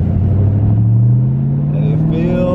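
A 2003 Mustang Cobra pulls out onto the road with a loud, steady engine rumble whose pitch climbs gently as it accelerates, filling the whole stretch up close.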